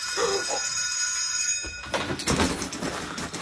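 An electric school bell rings for about two seconds in a classroom. A steady, shrill ringing sits under classroom noise, then it stops and students start shuffling and moving.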